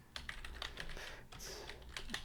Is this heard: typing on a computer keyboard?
yes